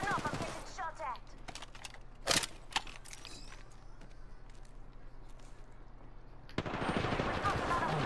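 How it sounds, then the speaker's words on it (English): Gunfire rattles through an Apex Legends-style shooter match, with scattered single shots and a sharp burst near the middle, then heavy rapid automatic fire at the end, while a player talks. "Listen up, I'm getting shot at."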